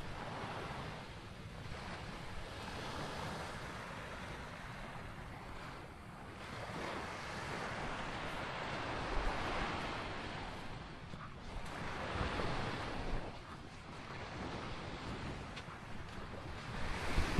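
Ocean surf rolls steadily onto a beach on Siargao island, with broad wash rising and falling in gentle swells and wind buffeting the microphone throughout; no voices.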